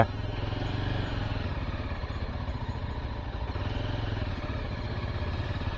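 A motorbike engine runs steadily and close by on a road near the Maruthamalai hill temple, a continuous throbbing drone that holds at an even level for the whole stretch, with no voices over it.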